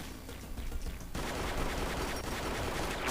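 Gunfire in the shooter HeyHa Royale starts with scattered distant shots, then breaks into a dense, loud, continuous volley of rapid fire that carries on to the end.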